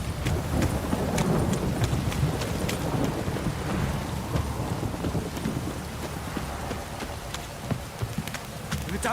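Steady rain falls in The Witcher 3: Wild Hunt, a continuous hiss of downpour with low rumbling thunder and scattered sharp drips and knocks, persisting evenly for several seconds.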